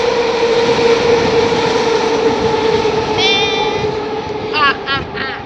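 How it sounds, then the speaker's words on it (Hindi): A train rolls past at night in Vancouver, a steady loud rumble of wheels and cars, with a squealing, whining screech rising near the end as it goes by. "ये देखो ट्रेन जा रही है।"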